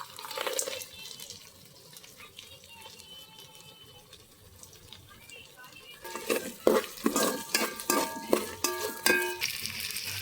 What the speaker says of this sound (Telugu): కొంచెం ఫ్రై చేసుకోవాలి.